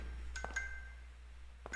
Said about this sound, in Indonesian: Ada suara lonceng.